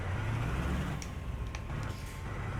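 Heavy truck engine from Euro Truck Simulator 2 with an aftermarket sound pack, a steady low rumble droning throughout with faint higher clicks on top, no talk.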